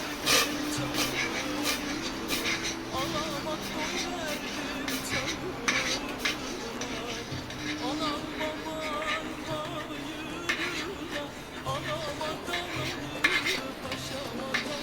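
A spoon stirs thick milk pudding in a pot, scraping and clinking against the metal in an uneven, repeated rhythm, with a low steady hum beneath and occasional louder knocks.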